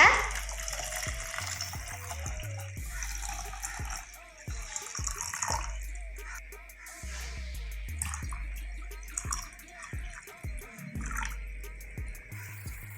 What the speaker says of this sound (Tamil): இன்னொரு ஆஃப் இருக்கு இல்லையா, அதில் தண்ணி ஊற்றிக்கோங்க.